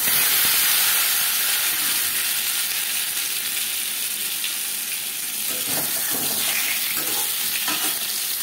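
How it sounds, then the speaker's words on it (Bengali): Boiled potato pieces fry in two spoons of refined oil in a wok, giving a steady, loud sizzling hiss close by with occasional stirring clatter. "লবণ হলুদ দিয়ে আলু ভেজে নেব।"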